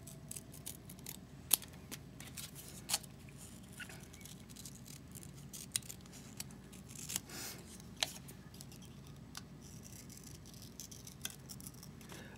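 Scissors snipping paper while paper piecing a greeting card: quiet, irregular clicks and sharp snips scattered over a soft rustling background, with no talking.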